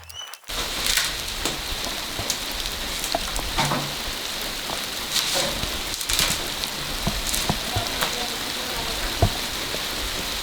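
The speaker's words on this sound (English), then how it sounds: "After a few hours in the garden, the rain started to fall," Steady rain falls on a garden, a dense continuous hiss of drops with occasional louder individual splashes close by, lasting throughout without pause.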